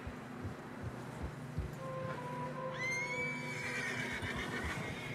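Horses in the snowy Red Dead Redemption II game world whinny and neigh with rising, high-pitched calls, over a bed of steady hoof clip-clop and ambient wind, fairly close.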